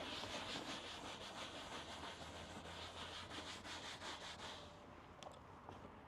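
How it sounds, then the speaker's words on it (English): A surface under a leather coating job gets scrubbed in steady, quiet rubbing strokes that repeat rhythmically for several seconds, faint and close, with no one talking. "So I've scrubbed the bottom."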